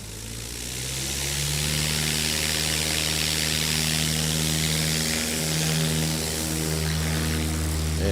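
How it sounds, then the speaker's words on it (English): A Piper Cherokee 180 propeller plane roars on a loud, continuous engine drone as it powers up for takeoff at a STOL competition in Sulphur Springs, Texas, with no voices. "We'll see him deploy flaps and pull that yoke back in the classic training aircraft, that Cherokee 180"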